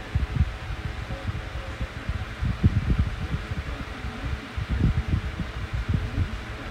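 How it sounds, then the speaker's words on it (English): An 8 inch Comfort Zone high velocity fan runs close by with a steady, throbbing low whir and rhythmic pulsing, no voice over it. "I haven't ran this fan in a while, so it's running for the first time in a long time since I've had it."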